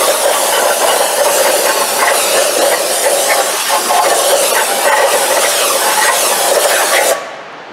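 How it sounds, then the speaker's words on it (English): Brake cleaner sprays from an aerosol can onto a cylinder head during a Dodge 4.7 engine rebuild, giving a loud, steady hiss for about seven seconds before it cuts off. "I'm just going to hit it with some brake clean."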